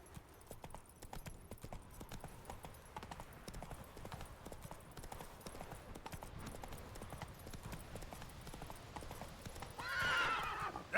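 Horse hooves clip-clop in a steady galloping rhythm in The Witcher video game, with a loud whinny near the end over a busy game soundscape.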